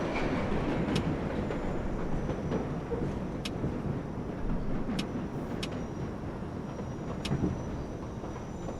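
A New York subway train on the number 7 local line runs in the World of Subways 4 video game, a steady rolling rumble with a few sharp clicks at intervals across the whole stretch.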